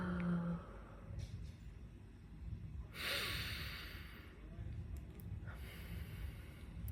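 One soft exhale, part of a breathing exercise, rushes out near the middle, quiet and close over a faint, low background.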